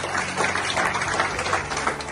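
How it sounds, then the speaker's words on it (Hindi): Loud, steady applause from an audience at a felicitation function of an SC/ST organisations federation, dense clapping that fills the whole moment without pause. "उमेश कुमार जी के लिए जोरदार तालियां"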